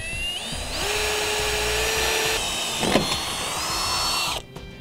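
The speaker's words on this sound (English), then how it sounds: "We're just going to drill one side and then move to the other side." A power drill with a 3/16 bit bores pilot holes while fitting a Fastway Flip automatic fold-up jack foot. The motor whines close and loud, with its pitch shifting as it cuts, then winds down and stops.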